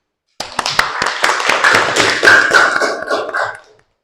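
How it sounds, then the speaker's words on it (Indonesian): A small group claps together in a teaching session, loud and close, with distinct sharp taps at first merging into a brief burst that fades out after about three seconds. "Nah, tepuk tangan untuk diri kita masing-masing."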